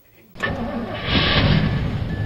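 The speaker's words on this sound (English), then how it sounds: "The sound of your car starting" A car engine cranks briefly, then catches and comes to life, settling into a steady, fairly loud running rumble close by.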